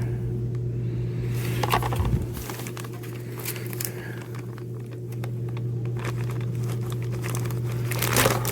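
A plastic package from a haul of fishing tackle being torn open, with intermittent crinkling and rustling of plastic over a low steady hum, close and moderately loud, with no talk.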